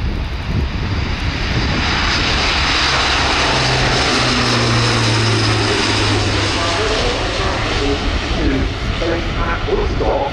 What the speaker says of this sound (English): here's the A400 on the roll